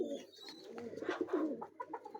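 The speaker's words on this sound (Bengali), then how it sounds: "এটা একটা শিয়ালকোটি ব্লাড লাইনের চাপড়া কবুতর পাকিস্তানি। এটা একটা চাপড়া নর কবুতর।" A male Pakistani Sialkoti chapra pigeon coos softly and close up, a few rolling throaty coos in quick succession.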